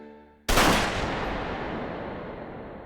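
A sharp, loud gunshot bursts from an anime episode after a brief tonal lead-in, followed by a long booming reverberant tail that slowly fades over a couple of seconds.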